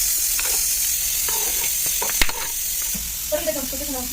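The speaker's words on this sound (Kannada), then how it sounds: "ಈರುಳ್ಳಿ, ಟೊಮೆಟೊ, ಆಮೇಲೆ ಪಲಾವ್ ಎಲೆ, ಚಕ್ಕೆ, ಲವಂಗ, ಮೆಣಸಿನಕಾಳು, ಜೀರಿಗೆ, ಶುಂಠಿ, ಬೆಳ್ಳುಳ್ಳಿ, ಒಂದು ಸ್ವಲ್ಪ ಕೊಬ್ಬರಿ ಇವನ್ನೆಲ್ಲವನ್ನು ಹಾಕಿ ನಾನಿಲ್ಲಿ ಫ್ರೈ ಮಾಡ್ಕೋತಾ ಇದ್ದೀನಿ" Onion, tomato, bay leaf, cinnamon, cloves, peppercorns, cumin, ginger, garlic and a little coconut fry in a pan for egg curry, a steady loud sizzle with occasional stirring scrapes and clicks, no talk.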